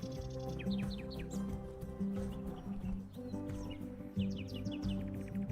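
Small nectar-feeding birds in the Amazon give quick high chirps and short twittering bursts, heard moderately near over a low tonal background hum.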